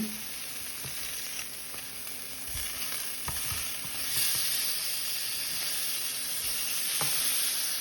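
Swordfish steaks sizzle loudly in a hot pan, a constant close hiss punctuated by several sharp clicks and scrapes as they are turned over, the frying swelling slightly near the end.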